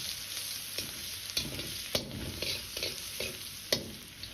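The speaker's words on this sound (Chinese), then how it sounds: "再放入一半的蒜末和小米辣炒香" Minced garlic and small chili peppers hit hot mixed oil with Sichuan peppercorns over medium-low heat, giving a soft, steady sizzle. Spatula strokes scrape through it about every half second.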